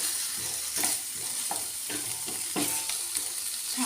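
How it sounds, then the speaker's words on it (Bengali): Chhana and potato mashed with spices and fried in a pan, sizzling steadily while a spoon scrapes and presses through the mixture in irregular knocks, no talking. "না আলু মশলাটা ভালো করে কষিয়ে নেব"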